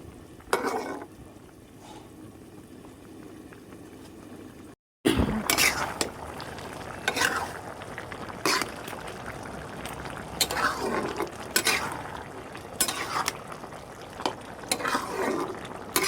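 Bottle gourd with small shrimp being stirred in a pan, with repeated scraping and clattering strokes and a soft simmering sizzle underneath, intermittent with brief pauses and a short dropout near the start.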